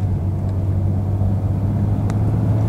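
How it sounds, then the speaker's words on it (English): A Porsche Panamera S e-Hybrid's engine cuts in as the car accelerates, a steady low rumble that stays fairly loud and unobtrusive throughout, heard from inside the cabin with no talking. "now we're gonna hear the motor come on. Here it goes."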